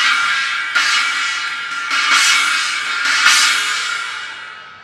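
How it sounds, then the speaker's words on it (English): A Paiste 14-inch Blast China cymbal is struck three times in steady succession, each crash loud and trashy with a bright wash that decays before the next hit, the last ringing out alone. "14 Blast China."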